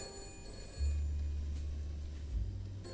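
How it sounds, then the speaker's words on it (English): A home telephone ringing in a kitchen at night, a faint bell-like tone sitting under steady background hiss and a low hum, with no talking. "my phone began to ring."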